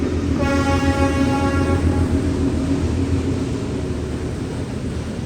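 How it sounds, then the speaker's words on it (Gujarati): A loud, heavy train rumbles past close by at Phu Quoc, Vietnam, heavy wheels roaring, with a horn-like tone sounding early before the noise slowly eases. "બડી હેવી હો ટ્રેન ચાલી જો"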